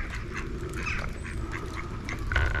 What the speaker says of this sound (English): The ducks have come for their morning feed.